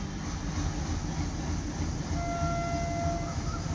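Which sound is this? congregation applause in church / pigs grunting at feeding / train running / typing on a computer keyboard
train running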